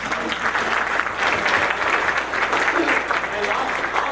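An audience at a TiE SoCal TiEcon conference in December 2023 applauds the organization's board, a steady, dense wash of clapping that holds at full strength for several seconds with no break.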